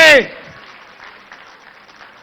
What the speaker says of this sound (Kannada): ಚಪ್ಪಾಳೆ ಜೋರಾಗಿ